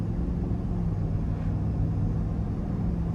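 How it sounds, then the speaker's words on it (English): A 2024 GMC Yukon SLT with a 5.3-liter V8 cruises on the road, giving a steady, continuous low engine and road rumble heard from inside the cabin, with no talk. "starting the drive in this Yukon SLT"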